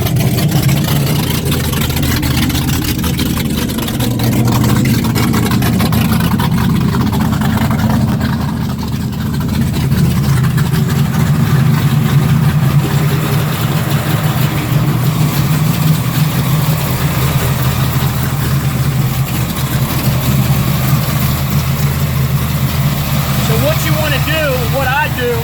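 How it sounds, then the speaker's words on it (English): Speedboat port motor starting and settling into a steady idle, a loud close rumble that holds throughout, with a person speaking over the engine noise. "before we fire up the port motor"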